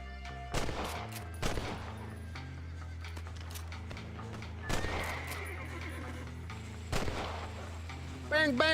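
Several loud gunshots ring out in the western video game Red Dead Redemption, spaced irregularly a second or two apart, with a horse whinnying near the end over a steady background hum.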